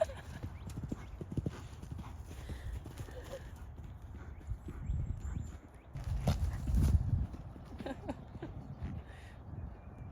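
Several horses run and buck loose in a field, their hooves thudding and clip-clopping in irregular bursts at moderate distance, with a faint whinny, wind noise and a voice speaking now and then.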